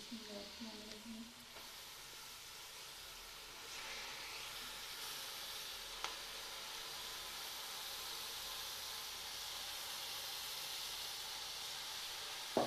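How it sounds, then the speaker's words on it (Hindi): Washed taramira greens go into freshly fried masala in a pan and give a steady, moderately loud sizzling hiss that lasts throughout. A few clinks and taps from handling are heard, including a sharp one at the very end. "तो अब इसमें मैं साग पहले से अच्छी तरह से धुला हुआ साग जो है वो शामिल कर दूँगी"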